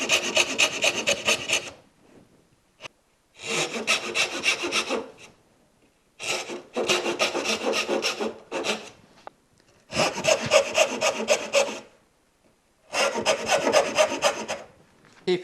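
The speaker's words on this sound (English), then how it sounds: "take the dovetail saw, and this time with the blade completely vertical," A hand dovetail saw cuts vertically through wooden pins, giving five or six rhythmic bursts of rasping back-and-forth sawing strokes, close and fairly loud, separated by short silent pauses.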